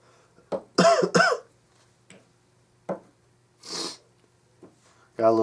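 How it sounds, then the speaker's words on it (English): Several short, sharp coughs from a man indoors, separated by pauses, with a throat-clearing sound, a breathy exhale and a brief vocal sound at the end. "Got a little cough."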